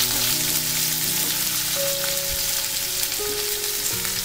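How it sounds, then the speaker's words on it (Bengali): Chopped onion fries in hot oil with cumin, a dense, even crackling hiss like rain on a surface that stays loud and steady throughout. "এবারে আমি এতে দিয়ে দেব পেঁয়াজ কুচি"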